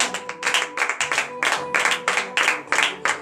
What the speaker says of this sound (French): Donnez de vivre acclamation à l'Éternel.